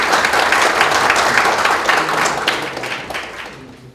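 A crowd at a Korean policy forum on venture capital claps loud, close applause that holds steady and then thins out and fades toward the end.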